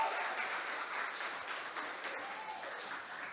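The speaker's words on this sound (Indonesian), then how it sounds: "Tepuk tangannya dong semua teman-teman." Sustained applause from a crowd at an outdoor radio talk show broadcast, steady and fairly dense throughout, with no speech over it.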